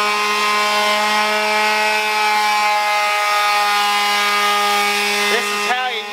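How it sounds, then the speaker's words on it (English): An electric sander, set upside down, runs with a loud, steady droning whine that holds its pitch throughout, then wavers briefly as something touches it near the end. "This is how you use a sander. You put her upside down and you get her going."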